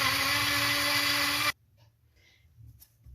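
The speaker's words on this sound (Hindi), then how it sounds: "अब इसको मैं ग्राइंड कर लूंगी" Electric grinder whirring loudly and steadily as it grinds cardamom with sugar, then cutting off abruptly halfway, leaving faint rustling and small clinks.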